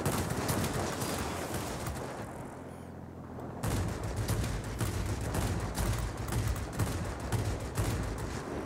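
Heavy 20 mm cannon fire from an aircraft in the World of Warplanes video game, dense rapid bursts of gunfire in sustained strings with a brief pause before firing resumes, loud and alone without talk.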